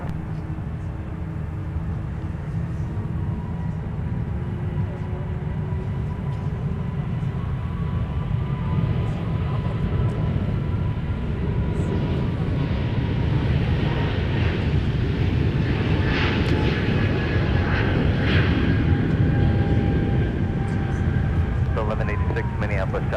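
A Boeing 757-300 departs from the south parallel runway for Dallas at a busy airport, its jet engines a steady, loud, broad roar that holds throughout with faint whining tones drifting above.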